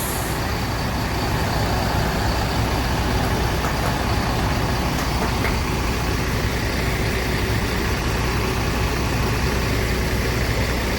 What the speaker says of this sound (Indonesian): Banyak bus-bus melintas.